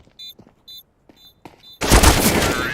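Game gunfire from a shooting game at a gaming arcade: a few short beeping tones, then a loud dense burst of rapid shots filling the last second.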